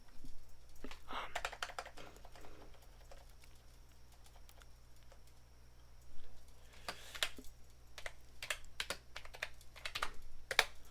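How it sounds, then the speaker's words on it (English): Bursts of clicky typing on a computer keyboard, close and crisp, with quieter pauses between flurries and a soft steady hum underneath. "my keyboard sounds good if you guys can hear it"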